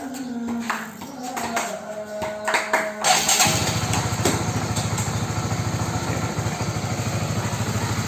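A Honda CBR150R motorcycle is cranked and fires up, then settles into a steady, loud, rapid idle that runs close by for several seconds.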